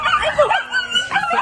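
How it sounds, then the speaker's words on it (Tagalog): A dog out on a town street near a cathedral in light drizzle gives a brief run of high, yelping barks and whines, close by and fairly loud, with no other sound standing out. "May aso."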